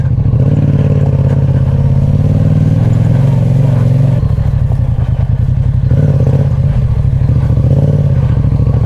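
A Yamaha motorcycle engine revs hard and close on a rocky trail, a loud continuous roar with a brief dip midway before it climbs again.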